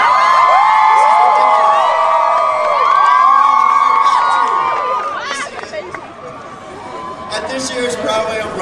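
A huge crowd of about 50,000 Broadway fans packed into Times Square screams and cheers loudly and continuously, with whoops and high shouts rising over a dense roar that dips briefly near the end.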